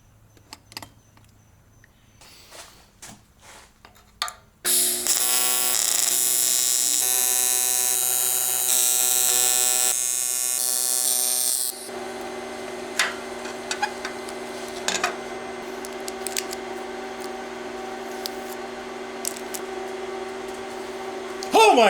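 Homemade pie-cut pipe pieces are tack welded for a turbo K24 build in a Nissan Cefiro, giving a steady buzzing, crackling arc for several seconds, then a lower ongoing hum with scattered ticks and clanks from the shop.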